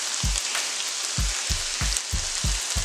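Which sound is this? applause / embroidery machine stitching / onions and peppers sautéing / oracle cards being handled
onions and peppers sautéing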